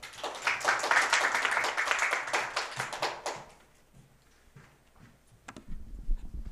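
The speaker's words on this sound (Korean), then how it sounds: "큰 박수로 맞이해 주시면 좋겠습니다." A seminar audience at KAIST claps to welcome a lecturer, a loud dense burst of many hands for about three seconds that thins into scattered claps and then fades out.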